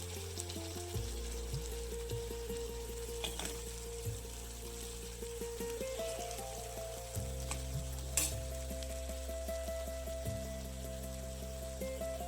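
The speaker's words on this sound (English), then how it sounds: "Squeeze half a lemon into the heated ingredients and mix it well." Lemon juice is stirred into hot ingredients in a kadai for mooli ki sabzi, with a soft sizzle underneath and repeated scraping, clinking strokes of the spoon against the pan.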